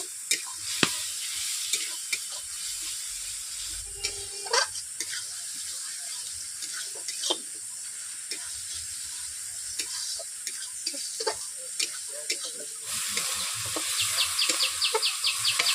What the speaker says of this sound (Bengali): পাঁচ মিনিট মশলাটাকে এইভাবে 5 মিনিট কষিয়ে নেব।